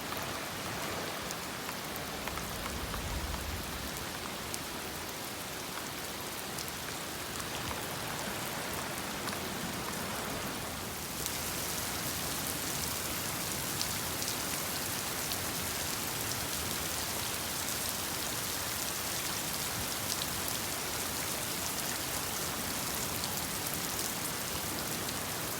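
Steady rain falls during the rainy season near the water, a dense continuous hiss of drops on surfaces that grows slightly brighter partway through and carries on unbroken throughout.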